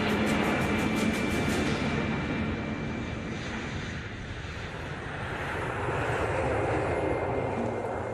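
A new passenger plane's engines at Heathrow airport give a steady, loud, broadband roar that holds evenly from start to finish, with no voices over it.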